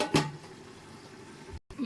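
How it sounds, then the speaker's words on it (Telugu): A metal lid set onto a pot of milk mutton biryani, giving one sharp clink near the start, followed by a low simmering bubble and a second faint knock near the end. "ఇప్పుడు మళ్ళీ మనం ఒక 2 minutes మూత పెట్టేద్దాం"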